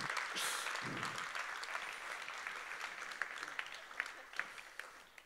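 Audience applause at an ICF Munich church podcast recording, a steady wash of many hands clapping with scattered sharper claps and a few voices mixed in throughout.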